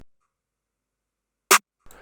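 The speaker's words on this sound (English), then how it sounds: "which is a clap mixed together with a snare" A single sharp, bright hit of a clap sample layered with a snare, programmed as FL Studio drums for a trap beat, rings out alone after near silence, followed by a softer partial hit at the very end.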